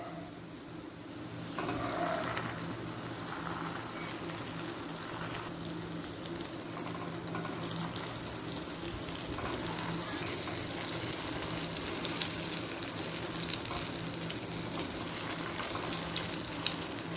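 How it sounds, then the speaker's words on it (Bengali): Chhana koftas frying in a little oil, a steady crackling sizzle that swells after the first couple of seconds and continues evenly, close and moderately loud, with no talk. "আমি অল্প তেল দিয়ে কোপ্তাগুলোকে ভেজে নেব"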